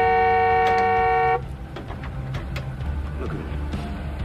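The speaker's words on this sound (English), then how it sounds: "Honk the horn again, please." A car horn blares loudly in a long steady tone on a city street, then cuts off, leaving traffic and street noise with faint clicks.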